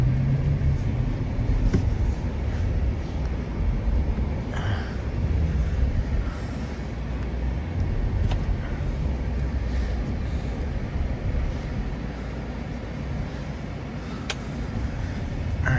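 A car pushes forward through deep snow in Mammoth Lakes, California, with a steady low engine rumble and crunching, rushing noise sustained throughout and no talking.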